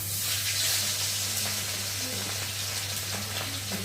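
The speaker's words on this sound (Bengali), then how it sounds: "দেখো, এখন আমি এই যে মাছটা তেলের মধ্যে দিয়ে ভালো করে ভেজে নেব।" Large pieces of rohu fish frying in hot oil in a kadai, giving a continuous, dense, loud hiss and sizzle with no pauses and no voices.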